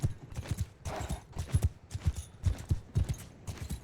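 In the video game Mount & Blade II: Bannerlord, horse hooves pound through sand in a fast, steady galloping rhythm, close and clear, with the rider's gear rattling along.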